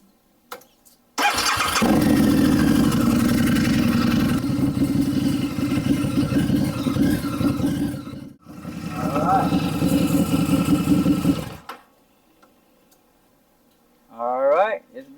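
A 2014 Harley-Davidson V-Rod Muscle motorcycle starts up and idles close by, a loud steady engine rumble that cuts out briefly midway before resuming, then stops, followed by a short burst of speech.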